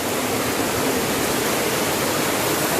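Water of a stream flowing near Hidden Falls, a steady dense rushing wash with no break, close and fairly loud throughout, with no voices over it.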